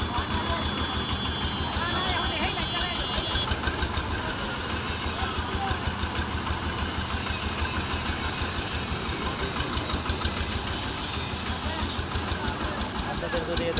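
A reconditioned paddy threshing machine engine idles with a steady knocking mechanical rumble at a workshop while someone talks over it.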